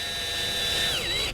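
A power drill drives a self-tapping screw with a steady, high motor whine that drops in pitch and winds down at the end, close and alone.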